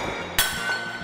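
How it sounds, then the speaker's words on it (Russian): A tablecloth yanked from under set dishes gives a single sharp clink of dishes and glassware at once, brief and bright, then a quiet room with faint rattling afterward. "Невозможно выдернуть скатерть,"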